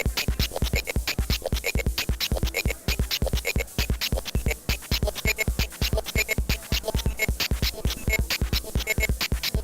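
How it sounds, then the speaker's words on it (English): A fast, steady chopped rhythm of synthesized bursts pulses like drums, dense and continuous with no voices. "putting some gate in so I can have some drum-like effect"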